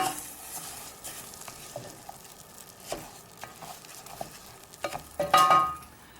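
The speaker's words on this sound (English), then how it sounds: "And just toss into the butter. Stir through just till it gets coated lightly and is glossy." Basmati rice is stirred through melted butter in a pan, giving a soft, steady sizzle broken by scraping stir strokes and light grain patter, close and fairly quiet, building to a fuller fry near the end.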